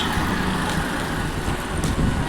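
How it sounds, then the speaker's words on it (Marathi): Traffic on a main road, a dense, steady roar of passing cars, trucks and other vehicles close by, broad and continuous without gaps and with no talking. "तर इकडे गाड्या वगैरे चालू आहेत."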